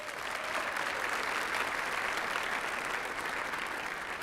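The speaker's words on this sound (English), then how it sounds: "Round of applause, please." Audience applause at a luncheon, a dense, steady wash of clapping from many hands that holds evenly throughout, with no voices over it.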